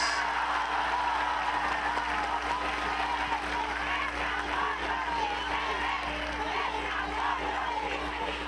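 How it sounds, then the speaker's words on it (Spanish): Sustained applause from a large crowd at a political rally in Mexico, with broadband clapping mixed with crowd noise and faint cheering over a low steady hum, continuous and even for the whole stretch. "Un aplauso a los hombres."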